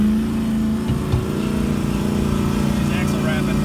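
Ford Bronco engine revving hard on sand with the axle wrapping, a loud sustained mid-pitched drone with a steady tone, people talking and exclaiming over it.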